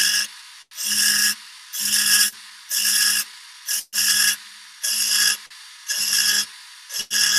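A rotary burr textures a surface in eight rhythmic grinding passes, each about half a second long with short gaps between, loud and close, with no voices.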